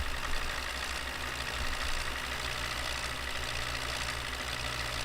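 A tractor engine idles and rumbles steadily in Farming Simulator 15, with a constant low, throbbing drone and a broad mechanical hiss that stays loud and unchanged throughout.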